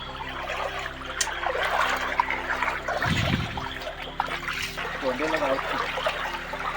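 Knee-deep water rushes and trickles steadily throughout, a continuous splashing flow with voices talking faintly over it, at night while catching crabs in the Konkan.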